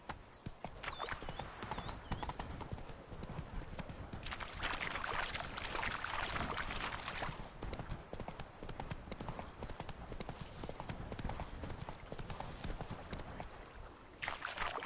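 Roach, Geralt's horse in The Witcher 3: Wild Hunt's Blood and Wine expansion, gallops with rapid, continuous hoofbeats that stay loud and steady throughout.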